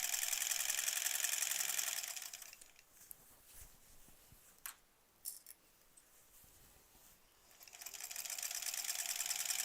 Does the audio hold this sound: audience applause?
no